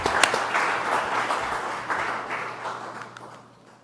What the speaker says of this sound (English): I want you to give them a great big round of applause in every way.